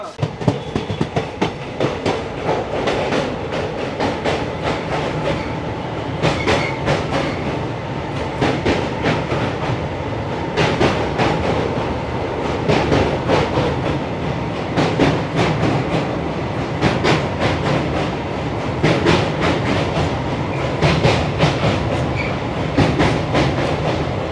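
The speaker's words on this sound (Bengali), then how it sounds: "ট্রেন ছেড়ে দিয়েছে দক্ষিণেশ্বর স্টেশন, কারণ এখানে স্টপেজ ছিল হচ্ছে 1 মিনিট" The Sealdah-Agartala Kanchanjungha Express pulls out of Dakshineswar station, its wheels sending up a steady, loud clickety-clack rumble of rail joints and carriages that runs continuously throughout.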